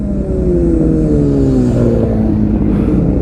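Superbikes, including a Kawasaki Ninja ZX6R and a Z900, run along a road with a steady, loud engine drone whose pitch slides gradually downward as they pass close by.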